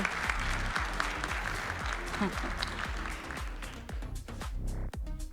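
Audience applause welcomes a speaker at the Ekoparty 2022 security conference, steady clapping from a crowd that thins out toward the end of the clip.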